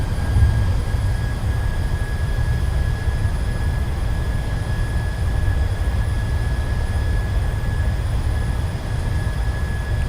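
A PMDG 737-700 lands in Microsoft Flight Simulator with thrust reversers deployed, producing a steady, loud, broad jet roar with low rumble that holds level throughout, alone without talk.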